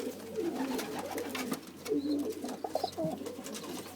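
Two-day-old pigeon squabs make soft, low cooing and bubbling calls while being hand fed, faint and close against a steady low hum.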